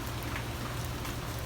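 Steady rain pours down in Key West, a close, even wash of drops pattering on surfaces over a low background rumble, with no talking.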